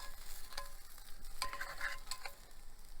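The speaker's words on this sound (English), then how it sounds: "Let's put the sausage on there" Sausage sizzling in a frying pan: faint crackle and spit with a few brief pops and scraping stirs, quiet and close, no voices.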